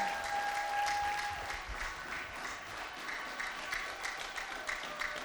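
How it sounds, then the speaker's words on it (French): A church congregation applauding and cheering for the Lord: sustained crowd clapping mixed with scattered shouts and voices, moderately loud and steady throughout. "Acclamons le Seigneur très fort."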